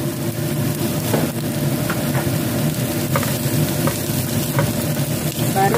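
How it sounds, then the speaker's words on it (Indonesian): Ground spice paste sautés in hot oil for a vegetable lodeh, a dense crackling sizzle with a few sharp spatters and stirring scrapes, steady and fairly loud, no voices. "Kita akan menumis dulu bumbunya, kita kasih minyak."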